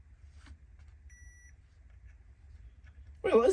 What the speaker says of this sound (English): stick the tester in it in various positions and see if it beeps